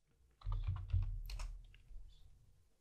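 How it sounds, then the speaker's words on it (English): Fingers tapping a computer keyboard in a short burst of several quick keystrokes, close and fairly quiet, with no talking. "I'm just going to type yes to accept it"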